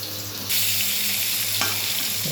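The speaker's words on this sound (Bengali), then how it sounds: "ওই মাছ ভাজার যে তেলটা ছিল ওই তেলটার মধ্যেই হচ্ছে ভেজে নিচ্ছে" Potato and pointed gourd fry in oil left over from frying fish, a close, continuous sizzle that jumps louder after the first half-second as the vegetables hit the pan, with no talking.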